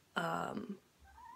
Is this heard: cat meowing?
yes